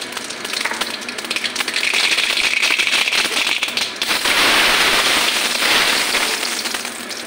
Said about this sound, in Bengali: এখন ফোড়ন দেব মিষ্টি জিরা, সরষা, জৈন আর শুকনো লঙ্কা।